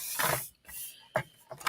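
A paper trimmer slices through cardstock in a crafting setting, giving a brief scraping cut followed by a couple of short clicks and taps, close and moderately quiet.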